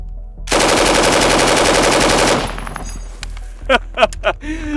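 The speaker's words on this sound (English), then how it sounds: "We are firing M855 Alpha 1, which is the actual military round." A heavy machine gun fires M855 military rounds in one loud, rapid sustained burst lasting about two seconds, followed by a fading echo and a few faint clinks and voices.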